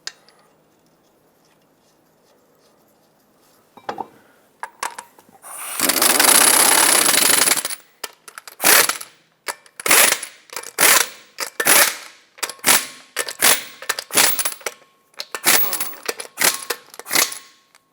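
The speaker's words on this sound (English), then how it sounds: "you want to torque these to 80 foot-pounds" A torque wrench tightening lug nuts on a 2014-2021 Mazda 6 front wheel: a long burst of power tool whirring, then a series of sharp, separate clicks and ratchet snaps spaced about half a second apart, close and loud.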